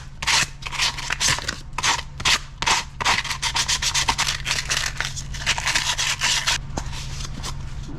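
Sandpaper rubs back and forth in quick, rhythmic scratchy strokes, close and fairly loud, over a low steady hum in a garage while work is done on a 2003 Chevy Cavalier four-cylinder engine.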